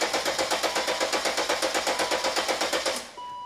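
A car engine cranks with a rapid, even rhythmic churning for about three seconds, then catches and settles into a steady idle with a slight tappety edge, close and fairly loud, with no talk over it.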